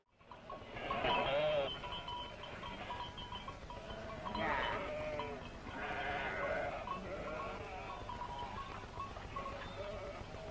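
Sheep bleat repeatedly on arid land with olive trees and exposed white rock near the sea, several wavering calls rising and falling over a steady outdoor background hiss, moderately close.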